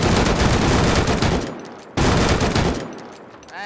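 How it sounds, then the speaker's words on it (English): Rapid gunfire in the video game Rust, two dense bursts of loud automatic shots, each stopping abruptly, with a short pause between them. "Why are you shooting"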